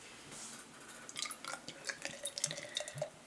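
Sky High Rye IPA beer pours into a glass with soft, quiet splashing and fizzing, scattered drips and crackles of foam rising near the microphone.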